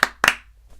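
Two sharp hand claps about a quarter second apart, loud and close, followed by near silence and a faint trailing noise, part of a playful clap-on clap-off bit between friends.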